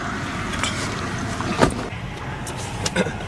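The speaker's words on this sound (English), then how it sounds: "If you're worried about the traffic, you're on the same side as the traffic noise" Traffic rumbles past at a roadside traffic stop, a steady broadband wash of road noise with a few brief swells as cars go by, no talking.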